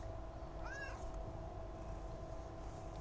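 A large cat gives a single short meow indoors, clear but fairly soft over a steady low background hum, with no talking.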